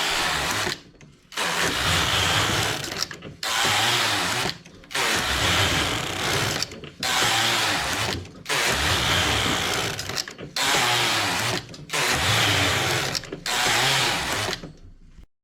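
Knitting machine working closed-stitch fabric for a child's pant, its carriage running in seven steady passes of dense mechanical clatter and rattle, each separated by a brief pause, close and loud.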